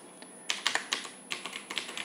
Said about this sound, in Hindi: तो सबसे पहले हम टाइप करेंगे यहाँ पे